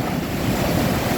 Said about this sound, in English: more waves coming towards me